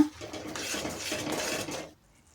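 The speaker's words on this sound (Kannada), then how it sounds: "ಈಗ ಅರ್ಧ ಸ್ಪೂನ್ನಷ್ಟು ಗರಂ ಮಸಾಲಾನ ಸೇರಿಸಿ ಮತ್ತೊಮ್ಮೆ ಎಲ್ಲ ಚೆನ್ನಾಗಿ ಮಿಕ್ಸ್ ಆಗೋ ಥರ ಫ್ರೈ ಮಾಡೋಣ" Curry gravy with garam masala is stirred and fried in a pan, heard as a brief burst of metal utensil scraping and clinking that stops abruptly into near silence.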